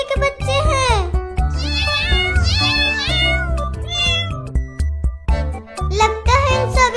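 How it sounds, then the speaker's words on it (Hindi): Several kittens meow in quick succession, high wavering cries overlapping one another close by, with a voice speaking among them. "चिंकी चिंकी, वो देखो कितने सारे बिल्ली के बच्चे हैं।"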